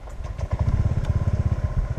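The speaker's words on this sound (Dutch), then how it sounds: "Klinkt gewoon echt als een motor." Deep, low motorcycle engine thumping in a steady fast rhythmic pulse, close and loud, on a ride in Thailand.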